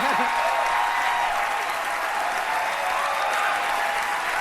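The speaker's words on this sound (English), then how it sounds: "Everyone's clapping." Steady, dense audience applause fills the whole stretch, even and fairly loud, with no voices standing out.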